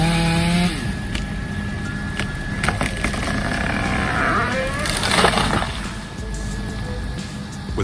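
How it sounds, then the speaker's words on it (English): A chainsaw cuts through a large tree during felling, its engine droning loudly and steadily throughout with shifting pitch as the blade bites into the wood, close by and without talk. "With precise sawing technique, the worker brought down the large tree without causing any damage."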